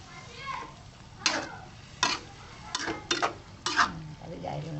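Young papaya sambal with added water stirred in a pan, with several distinct scraping and clinking strokes of a spoon against the cookware over a soft sizzle, while a voice talks throughout.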